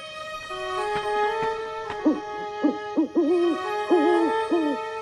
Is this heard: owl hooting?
yes